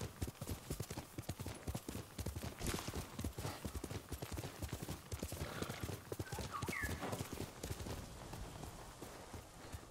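Rapid hoofbeats of a horse in the video game Ghost of Tsushima clatter in a steady galloping rhythm, fairly faint, with a soft bird-like chirp partway through.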